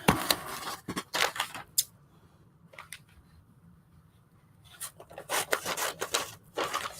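Paper is cut with scissors for art journaling: several sharp snipping and rustling strokes near at hand, a quiet pause in the middle, then another cluster of cuts and paper handling.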